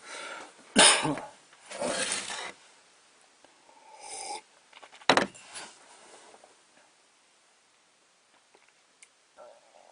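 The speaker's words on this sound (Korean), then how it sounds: "기침이 엄청 방해하네요." Someone coughs several times, first in sharp, loud bursts close by and then in fainter, spaced coughs and throat sounds, with no speech over them.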